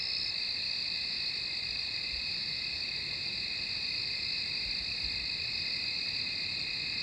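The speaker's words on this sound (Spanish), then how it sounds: "Ambiente noche, algunos grillos." Steady high-pitched insect trill, like crickets at night, droning continuously at a quiet, even level over faint background hiss.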